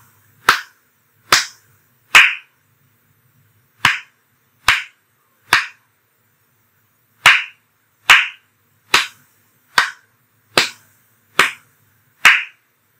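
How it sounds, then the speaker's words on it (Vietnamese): Children clap a rhythm exercise in a fourth-grade music lesson: thirteen crisp, loud hand claps, first two groups of three, then a steady run of seven, each sharp and separated by silence. "chúng ta không đọc tên của hình nốt mà chúng ta chỉ vỗ tay thôi nhé"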